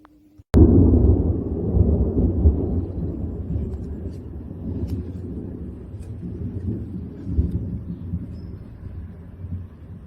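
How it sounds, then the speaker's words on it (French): A thunderstorm over Mérignac near Bordeaux opens with a sharp crack, then rolls into a long, loud, low rumble that fades unevenly with a second swell near the end, and a few faint clicks over it. "là l'orage commence à donner ses premiers éclairs à Mérignac"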